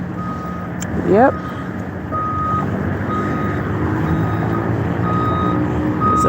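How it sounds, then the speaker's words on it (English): A bus backs up with a steady series of high electronic reversing beeps repeating at even intervals over its idling engine, with a brief hiss and a person speaking briefly nearby. "There's a bus right now backing up."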